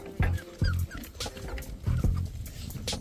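Several puppies whimper and give high yips in short, repeated bursts, close by, with brief soft cries between them and a faint voice in the background.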